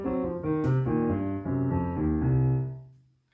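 Blues piano right-hand lick, a short run of clear notes and chords played close and alone, ending on a sustained chord that fades out.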